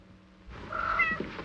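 A single cat meows once, fairly close and clear, after a moment of near silence.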